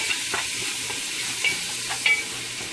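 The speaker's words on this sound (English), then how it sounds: "I'm going to kind of stir that up so the seasoning marries in there" Beans being stirred into seasoning in a pot for Haitian rice and beans, a light scraping and soft sizzle with a few distinct utensil taps, close and steady, no talk.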